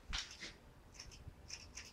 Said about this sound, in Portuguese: quanto mais afiada a tesoura, melhor vai ser